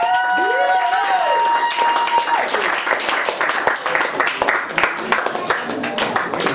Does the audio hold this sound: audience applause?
yes